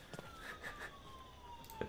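A police car siren in the Thief Simulator video game wails faintly in the background, a thin gliding tone that rises and falls quietly for a couple of seconds.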